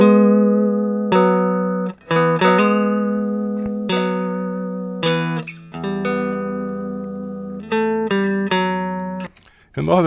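Electric guitar sustains notes and short phrases as an equalization example, its tone bright and full with a slightly distorted, effected character, played alone, close and loud for about ten seconds.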